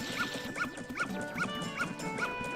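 A dog in Legend of Zelda: Majora's Mask gives a steady series of short, high yipping barks, about one every half second, loud and repeating without pause.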